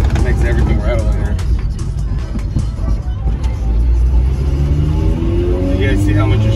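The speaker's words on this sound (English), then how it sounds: "It makes everything rattle in here." The cabin of a car on newly installed Fortune Auto coilovers fills with loud road rumble as it drives over small bumps, with scattered sharp rattles and knocks from loose interior parts and a voice talking over the noise.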